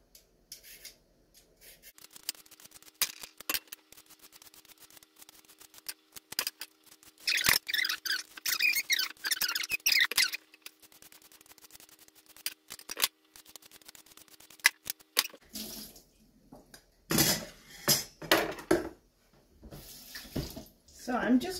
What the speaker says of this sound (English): peel these carrots